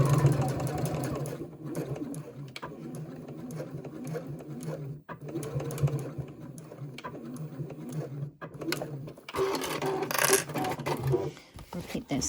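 A sewing machine stitches back and forth over a zipper pouch seam, a steady close mechanical whir with brief pauses and changes in pace.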